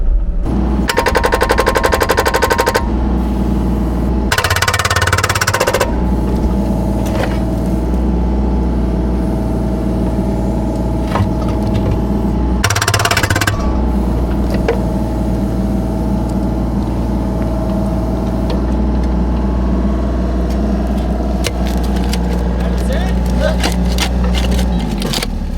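An excavator's hydraulic hammer breaker runs near a pole barn build, loud rapid pounding bursts that start and stop over a constant heavy engine drone, close by.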